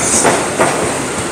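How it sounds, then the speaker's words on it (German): A busy passenger train pulls into a station in Thailand on the line toward Bangkok, a loud, close rumble with rhythmic clacks from the wheels passing over rail joints and a faint high squeal, with no voices. "Da kommt auch schon ein Zug."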